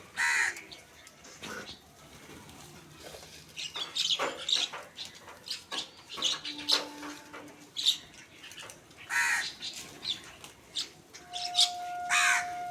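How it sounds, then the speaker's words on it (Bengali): Crows gathering to eat food scattered in a wooded spot, a flock cawing repeatedly at varying distances, some calls near and loud, with faint chirps and a little wing flapping. "দেখো পাখি আসছে কীভাবে"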